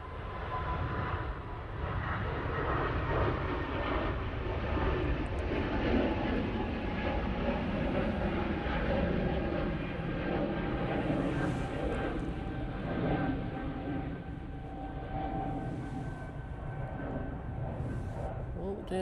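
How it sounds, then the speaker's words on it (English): An Air France Airbus A380 takes off from Manchester Airport bound for Paris Charles de Gaulle, its jet engines a loud, steady broadband roar that holds for the whole stretch, with a voice talking over it. "Air France A380 going back off to Paris Charles de Gaulle Airport"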